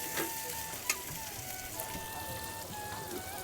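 Tomatoes and garlic frying in a pan for a village-style cowpea and shendodi vegetable dish, giving a steady soft sizzle throughout with a brief louder crackle near the start, no voices.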